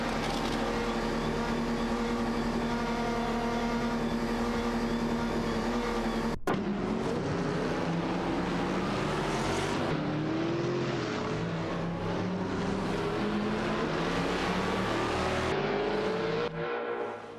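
Race cars in a racing video game, including a Nissan 350Z GT1 and a Porsche 996 Biturbo, roar continuously at high revs. The engine pitch climbs through gear changes with a brief cut midway, loud and unbroken throughout.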